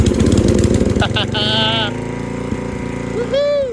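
A Comet lawn mower engine sputters and chugs loudly as it starts, then settles into a steady running drone with a lighter rising whine near the end; a voice whoops briefly over the engine.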